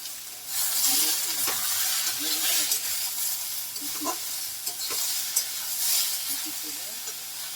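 Soaked potatoes frying in hot oil, a loud hissing sizzle with rhythmic scraping strokes of a spatula stirring them in the pan.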